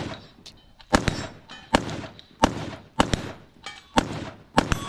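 A new rifle fires at a shooting match in a steady series of about six loud, sharp cracks roughly a second apart, each with a short ringing tail. Fainter shots echo in between, with no talking.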